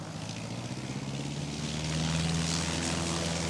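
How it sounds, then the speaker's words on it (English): A noisy glider's engine drones steadily close by, a low, even hum that grows slightly louder partway through, with no talk over it. "It's a very noisy glider."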